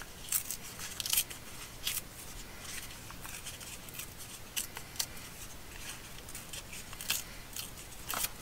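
Paper being torn into smaller pieces for a journal cover, a series of short crisp ripping and crackling bursts, close and quiet, heard alone with no talk.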